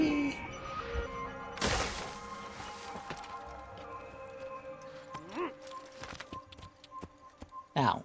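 Hooves of a stolen horse in Assassin's Creed clop along at a steady gait, moderately loud, with a horse snort, a crash and background game sounds under occasional talk.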